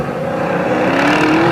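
A Brisca F1 stock car races around an oval track, its engine a loud, continuous close roar with a slowly rising pitch as it powers through the turns.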